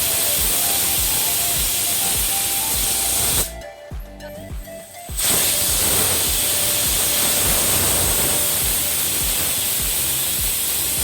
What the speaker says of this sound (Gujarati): અને કુકરની બેથી ત્રણ સીટી વગાડી દો